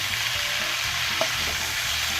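Eggplant and mixed vegetables stir-fry in a pan with a steady, close sizzle and crackle, broken by a soft scrape of stirring.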